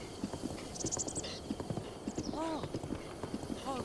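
A horse in Zelda: Breath of the Wild trots with a steady clip-clop of hooves over a constant ambient bed, and a couple of short neighs break through midway and near the end.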